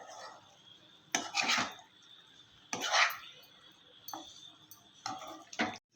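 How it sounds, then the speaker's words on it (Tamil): Egg chukka being stirred gently in a pan, heard as several distinct scraping, clattering bursts of a spoon against the metal pan separated by short quiet pauses, close and fairly loud. "இப்போ முட்டை உடையாமல் நல்லா கலந்து விட்ருங்க"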